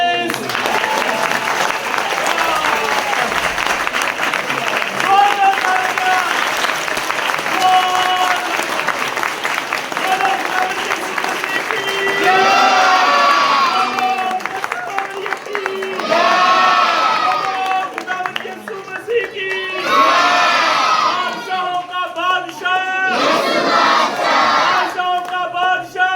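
Loud applause and cheering from a congregation at a Christmas midnight service, with shouts and voices rising in bursts over steady clapping throughout.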